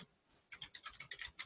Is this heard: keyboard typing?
yes